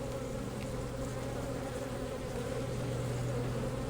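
A strong nuc colony of honey bees hums with a dense, steady buzz, close and continuous, with no voices over it.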